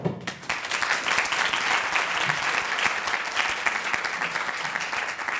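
An audience at a debate round applauds both teams, the clapping swelling in after a brief quiet start and holding as a steady, fairly distant crowd wash to the end.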